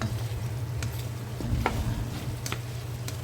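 Chicken cooking in coconut milk with beans, a steady low sizzle and bubbling in the pan as the pieces are flipped, with a few light clinks and scrapes of a utensil; a voice speaks briefly.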